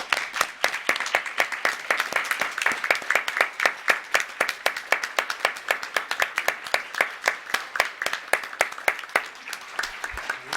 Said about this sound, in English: Let's give all these performers a great round of applause.